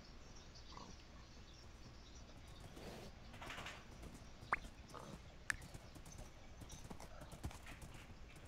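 Horses in the video game Minecraft, a few faint hoof clops and small snorts spread over a quiet ambient background, distant and sparse, with no voices.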